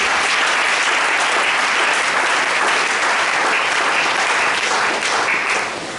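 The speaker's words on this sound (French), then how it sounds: "Est-ce que tu peux acclamer Jésus ce matin?" A church congregation at a morning service applauds to acclaim Jesus, with loud, sustained clapping from many hands that fades slightly at the end.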